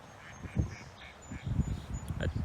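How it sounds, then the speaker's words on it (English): A duck quacks repeatedly in the background, a series of short raspy calls in uneven bursts, faint to moderate and fairly distant. "There's a duck in the background, like laughing its head off."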